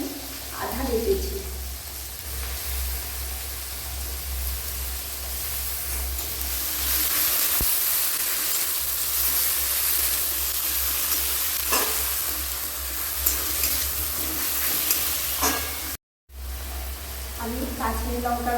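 Half-ground onion paste dropped into a pan of oil with fried garlic for a fish curry, giving a steady close hiss and sizzle with occasional stirring scrapes, while a voice talks briefly at the start and end.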